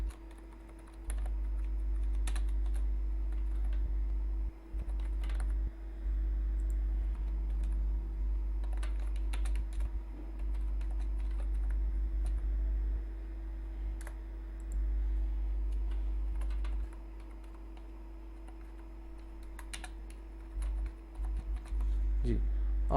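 Steady typing on a computer keyboard, with quick irregular key clicks in bursts over a constant low electrical hum, close and fairly quiet, continuing throughout.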